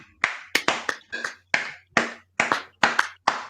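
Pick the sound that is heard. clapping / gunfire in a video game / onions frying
clapping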